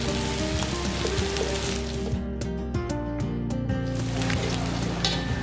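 Finely chopped garlic sizzles in hot oil in a pan, a steady crackling hiss that runs throughout with a few louder pops, and no voices over it.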